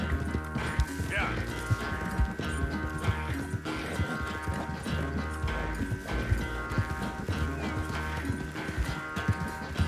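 Horse hooves gallop in a steady clip-clop rhythm through Red Dead Redemption 2, set against a dense bed of game music and ambience, with a voice talking over the ride.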